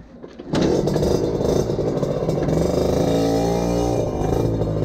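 A 50cc scooter fitted with a Most exhaust fires up after a brief quiet moment and then revs hard and steadily, a loud, close, buzzing two-stroke drone that holds for several seconds.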